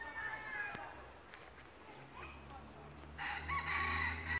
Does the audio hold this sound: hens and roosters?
yes